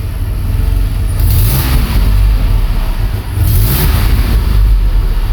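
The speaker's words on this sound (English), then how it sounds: "See if I can rev it a couple times" A DeLorean's engine revs loudly twice, rising and falling, close by with a steady idle rumble between the bursts.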